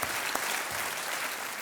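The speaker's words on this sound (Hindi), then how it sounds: "तालियों के साथ इनका स्वागत किया जाए।" Studio audience applause on a television quiz show welcoming a contestant, a continuous, even wash of clapping throughout the short stretch.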